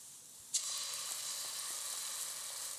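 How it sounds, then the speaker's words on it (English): Spring onion and onion stir frying with ginger and garlic in a hot pan, a steady bright sizzle that bursts in suddenly as food hits the oil, then holds loud and even with faint stirring scrapes. "just stir frying, making sure the white part of the spring onion and the onion has softened slightly"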